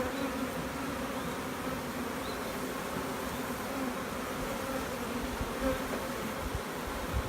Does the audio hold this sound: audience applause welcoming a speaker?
no